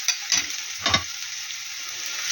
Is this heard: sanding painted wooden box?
no